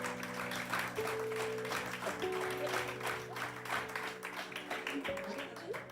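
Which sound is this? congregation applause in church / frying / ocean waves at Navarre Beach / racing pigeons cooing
congregation applause in church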